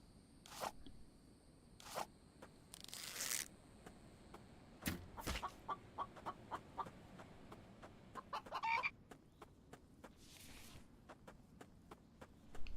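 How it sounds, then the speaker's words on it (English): Video game chickens cluck in short repeated bursts alongside scattered footsteps and sharp game effects, fairly quiet, with no talk over them. "Oh, another chicken."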